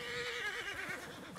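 A horse whinnies loudly and close in Red Dead Redemption 2, a wavering neigh that rises and trembles for over a second, with faint hoof clip-clop underneath.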